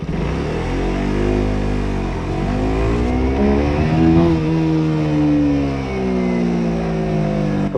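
A 2024 KTM RC 125 motorcycle engine revs loud and close, pitch rising and falling through repeated throttle sweeps that run continuously without pause.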